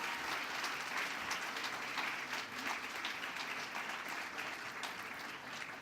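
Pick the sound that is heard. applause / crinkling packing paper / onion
applause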